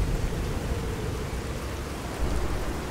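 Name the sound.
rainstorm in Fallout 4 video game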